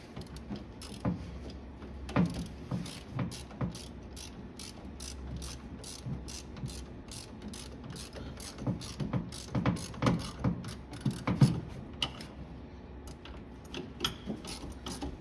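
Ratchet wrench snugging down a part on the front drum brakes of a 1969 Buick Skylark, with steady rapid clicking in bursts of turns and occasional metallic clunks, close and fairly clear against a quiet background.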